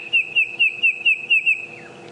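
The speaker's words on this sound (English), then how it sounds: "A series of clicks and then whistles." A bird calls on a sunrise safari drive: a quick run of six evenly spaced, clear whistled notes, then a falling whistle, fairly close, over a faint low rumble.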